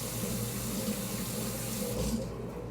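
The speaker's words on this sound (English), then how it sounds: "let me wash my hands again really quickly" Water runs steadily from a kitchen tap into a sink as hands are rinsed, a continuous close splashing hiss that tapers off near the end as the flow stops.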